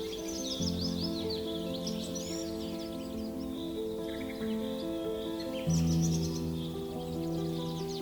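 Colourful tropical birds call over a rainforest canopy near the sea, with quick, bright chirps and whistles rising above a sustained musical score that carries throughout.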